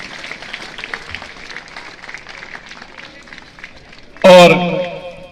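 Audience clapping at a school's annual function plays as a steady, moderate patter beneath a speaking voice, and a loud, sharp burst of sound breaks in near the end.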